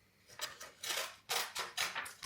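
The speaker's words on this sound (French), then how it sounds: "est-ce que ça coupe vraiment ces ciseaux?" Children's bladeless scissors snip through stationery in about five quick, crisp cuts with short gaps between them, close up and with no voices.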